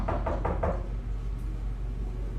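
Four quick firm knocks on a door in a home, evenly spaced, followed by quiet room hum, no speech.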